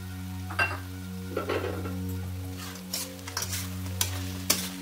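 Fried cauliflower for Gobi 65 is stirred in a sizzling pan, with a steady frying hiss under a low hum and several scraping, clinking strokes of a utensil against the pan at irregular intervals.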